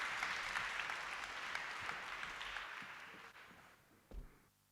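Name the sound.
applause for panel interviewees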